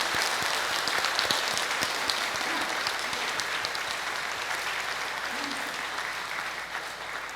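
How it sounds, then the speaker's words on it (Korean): A church congregation claps together in sustained, dense applause that holds evenly for several seconds before easing slightly toward the end. "진심으로 한번 박수를 좀 쳐주세요"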